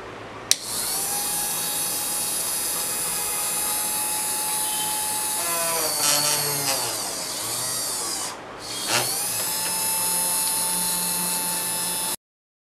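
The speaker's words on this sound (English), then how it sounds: "Lastly, drill the holes for the components into the PCB." A small high-speed drill whines steadily while boring component holes into a homemade etched PCB, its pitch dipping briefly as each bit bites through the board and then rising again.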